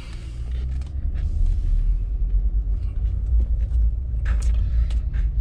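Ford F-150 SuperCrew 4x4 pickup driving on a test drive, heard from inside the cab as a steady low engine and road rumble, with faint clicks and small knocks over it and no talk.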